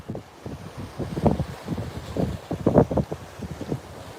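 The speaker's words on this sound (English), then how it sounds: "It's a little windy out here today." Wind gusts buffet a microphone on a saltwater fishing pier at Bayside, Texas, giving uneven low rumbling bursts that swell and fade over a few seconds.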